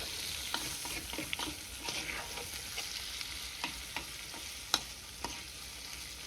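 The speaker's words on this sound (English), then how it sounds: "let's stir that up" Spices, sugar, salt and chili powder stirred into tomatoes in a pan for butter chicken: a steady sizzle with scattered scraping clicks of a spoon against the pan, close and moderately loud, with no talking.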